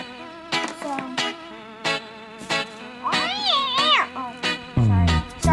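A house cat meows in several short, rising calls, close by, between bursts of someone talking, ending with a louder, drawn-out meow.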